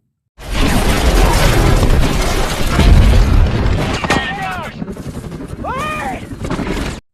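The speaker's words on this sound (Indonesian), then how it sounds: "pesawat terbakar, jatuh lalu meledak" A loud, rumbling roar and crashing boom as a burning plane falls and explodes, followed by sharp whooshing and screeching sounds as debris and fire settle.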